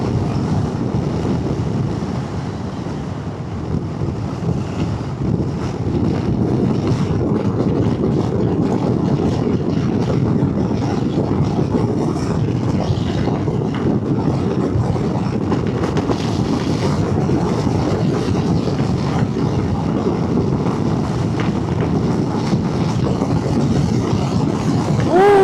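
Wind buffets a helmet-mounted DJI Osmo camera on a chin-opening helmet during a motorcycle ride, a loud, steady roar that fills the whole stretch with no talking.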